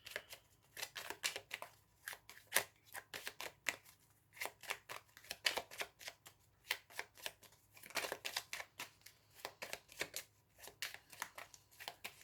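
Oracle cards being shuffled for a reading, rapid repeated papery riffles in bursts with short pauses, close and fairly quiet.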